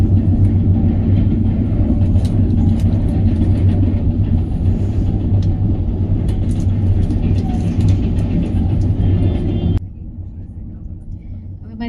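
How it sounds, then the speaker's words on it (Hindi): Passenger train travelling through the Konkan region from Ratnagiri toward Kudal, heard from inside a carriage as a loud, steady rumble that continues throughout and drops to a quieter hum near the end. "हमारी ट्रेन निकली है रत्नागिरी से।"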